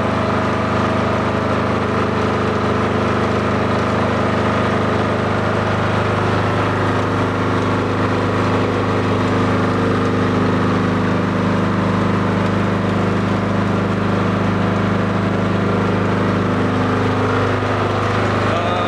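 A generator set runs steadily while charging a UPS, a constant loud droning engine hum with a slight shift in tone near the end and no voices.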